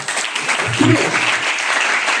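Clapping from a school audience at a ceremony for a visiting High Court judge, a steady broad wash of applause lasting throughout, fairly loud, with a brief voice surfacing in the middle.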